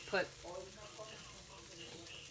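A chicken quesadilla, a tortilla with melting cheese, sizzles softly and steadily in a hot pan, a quiet continuous hiss running throughout while a voice speaks briefly near the start and faint talk continues underneath.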